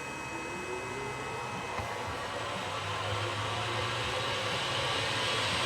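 A Boxford BUD lathe motor runs from an inverter on 50 hertz, giving a steady, close whirring hum with a faint high electrical whine that holds constant throughout.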